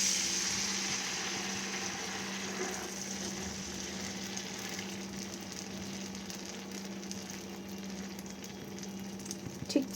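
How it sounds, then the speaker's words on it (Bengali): Patishapta, Bengali rolled crepes, frying in a pan with a steady, close sizzle that runs unbroken throughout, with a faint clink near the end and no voices. "এইভাবে তোমাদের আমি আরও কয়েকটা ভেজে দেখাচ্ছি"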